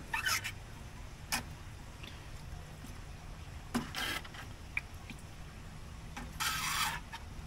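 The metal lid of a smoker is opened during a smoked maple-glazed ham cook, giving a few scattered scraping and clanking bursts with faint rubbing in between, fairly quiet and close.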